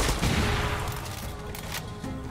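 BP-2 assault rifle firing in Far Cry 6, a dense burst of booming shots at the start that thins into scattered cracks and rumbling impacts over about two seconds, loud and close with no talk.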